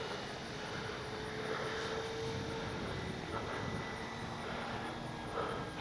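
An RC P-51D warbird model plane, 1600mm size, drones steadily overhead in flight, its engine a continuous moderate whine heard at some distance over outdoor background noise.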